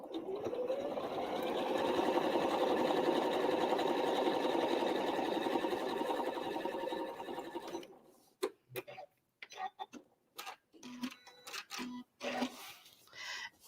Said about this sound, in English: I'm going to straight line quilt each patch.